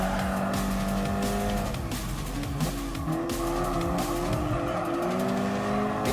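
An Alpine A110 Premier Edition race car in Gran Turismo Sport, its engine droning steadily with shifting pitch as tires squeal through corners, loud and continuous throughout with no talking.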